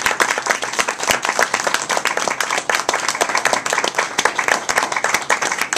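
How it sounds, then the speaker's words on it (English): Studio audience applause on a one-on-one TV talk show, saluting the lead sponsor: crisp, close clapping from many hands, sustained and fairly loud throughout without talk. "Bible Systems Inc., Roger Cherukunda, a round of applause for our lead sponsor"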